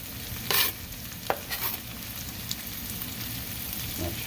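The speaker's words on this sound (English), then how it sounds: "I'm gonna dump in a bunch of this chopped pork" Chopped pork fries in a pan on a Pit Boss with a soft steady sizzle. A few scraping stirs and light clinks of a utensil come through close by.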